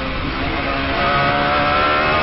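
A Radical sportscar's engine lapping the Nurburgring, a loud, steady, close-up drone that stays even without revving breaks.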